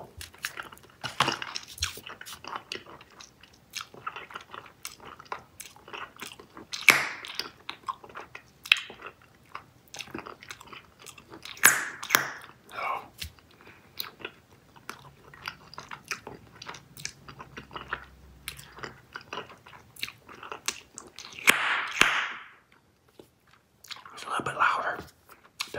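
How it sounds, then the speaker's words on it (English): Close, wet chewing of two pieces of cotton candy Bubble Yum bubble gum with sharp little pops scattered throughout, with a soft voice speaking at times between the chews. "when I put two pieces in my mouth, the popping sound seems to be higher pitch."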